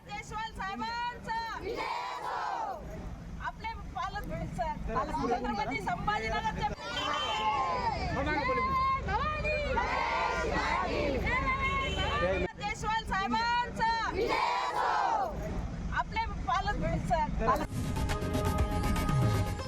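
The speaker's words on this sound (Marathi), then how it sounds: "त्यानंतर हा जल्लोष कार्यकर्त्यांनी साजरा केला" A crowd of political party workers cheers and chants in celebration outdoors. Many loud voices shout together and keep going for about twenty seconds, with rhythmic slogan-like bursts and a busy background of babble.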